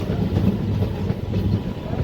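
Passenger train 57657 rolling along the rails between Purna and Parli Vaijnath, a steady low rumble with faint rhythmic clatter heard from inside the carriage, continuous and moderately loud.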